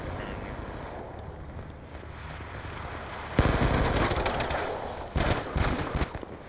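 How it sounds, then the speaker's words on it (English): Scorpion submachine gun fire in Black Ops 2 erupts in rapid loud bursts after a stretch of steady game ambience, with a brief pause before a final flurry of shots. "I got first shots on this dude with a scorpion at close range"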